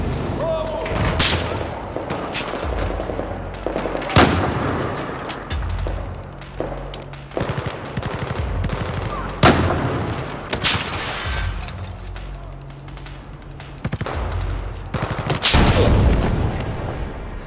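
Heavy gunfire and booming blasts from Battlefield 4 in sharp, loud, irregular bursts, with an excited voice talking between the shots.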